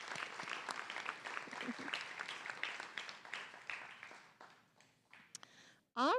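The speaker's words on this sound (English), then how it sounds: "So just a round of applause for them." Audience applause in an auditorium at a nursing pinning ceremony, a crowd clapping that gradually thins out and fades over several seconds, followed by a short loud burst of electronic feedback or noise at the end.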